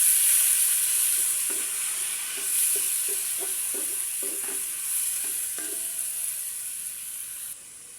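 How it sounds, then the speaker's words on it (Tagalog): Kangkong (water spinach) stems frying in a pan for adobong kangkong, a bright steady sizzle with a series of short scraping stirs of a spatula, close up and fairly loud, with no voices. "Ilagay na natin yung tangkay ng kangkong. Haluin lang."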